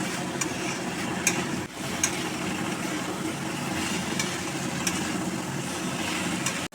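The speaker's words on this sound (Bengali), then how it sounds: "এবার সয়াবিনটা ঢেলে দেবো। ঢেলে দিয়ে একটু কষে নিতে হবে।" Soybean chunks tossed into well-fried spice masala give a continuous, fairly loud frying hiss with scattered scraping and stirring clicks throughout.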